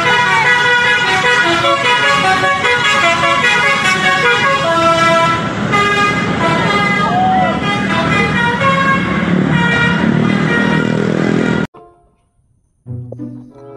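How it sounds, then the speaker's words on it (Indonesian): Blue Star bus in Indonesia passing with a loud, continuous musical horn (a multi-tone melodic 'basuri' style) playing for about eleven seconds, rising and shifting in pitch, then cutting off abruptly, followed by a brief rumble of the engine. "Bus Blue Star teman-teman."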